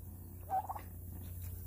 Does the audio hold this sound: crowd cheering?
no